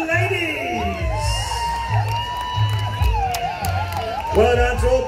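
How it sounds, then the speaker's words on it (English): A crowd at an Oktoberfest garden festival in Adelaide cheers, whoops and shouts for the women's tug of war winners, a loud lively roar with children's voices and scattered applause continuing throughout. "Round of applause for the ladies!"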